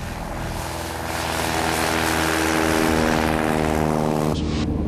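A small propeller airplane roars steadily as its engine runs up for takeoff, a loud, continuous droning with tonal harmonics that swells slightly before cutting off abruptly near the end.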